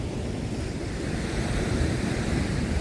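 Water from a giant play fountain rushes and splashes in a steady, dense wash of sound that stays loud and even throughout, with no talking.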